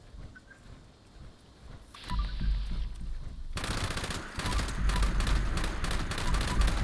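Light machine gun fire in Fallout 76 (LMG VATS crit build): after a quieter stretch, loud continuous rapid automatic bursts run close and steady to the end.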